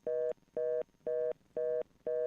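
A telephone line gives five evenly spaced, identical tone bursts, each about a quarter second long with short gaps, clear and steady with no talk.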